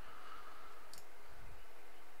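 A computer mouse gives a single short, faint click partway through, with only low background hiss around it.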